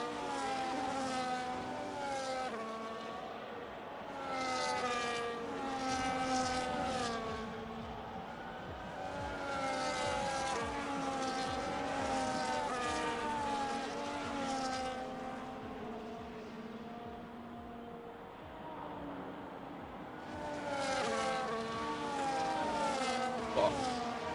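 Race cars speeding around the track at a Las Vegas round, engines whining and rising in pitch as several pass one after another, with the sustained roar swelling and easing throughout.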